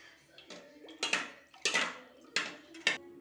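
A spoon stirs elaneer payasam, a tender coconut pudding, in a vessel, giving four clinking, scraping strokes in a steady rhythm, close and fairly quiet.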